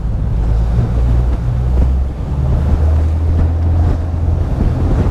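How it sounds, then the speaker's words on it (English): A Sunseeker Manhattan 65 yacht idles at just over 600 RPM on big single-turbo engines, a steady low rumble under wind noise and soft water wash. The sound is loud, constant and close, with no talking. "Engines are ticking over nicely at just over 600 RPM"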